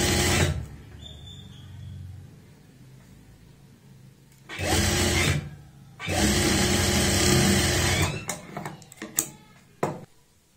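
A sewing machine stitches a frock in loud, close bursts of whirring motor drone, separated by short pauses and ending in a few quick, sharp clicks and taps.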